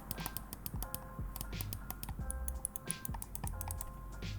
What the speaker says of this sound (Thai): นี่คือ เสียงสกอร์ล็อกนะครับ